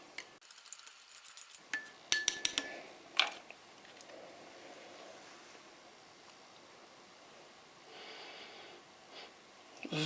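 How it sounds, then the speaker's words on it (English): A spoon stirs a raspberry drink in a cup from a Polish S-RG-3 24-hour ration. A quick run of light metallic clinks comes early, then a soft, quiet hiss follows. "Let's try this raspberry drink. Let's give it a quick stir."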